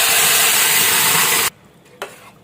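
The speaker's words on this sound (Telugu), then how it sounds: "స్టవ్ ఆఫ్ చేసి పప్పు ఇందులో వేసుకుందాం" Hot tempering of cumin and curry leaves in a pan sizzles loudly as cooked tomato dal is stirred in, then the hiss cuts off abruptly, leaving near-quiet broken by a single clink of a spoon.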